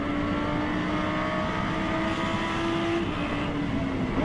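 An Audi race car engine roars past the pits at high revs during the 2011 24 Hours of Spa, a loud sustained drone with a slight pitch shift as it goes by.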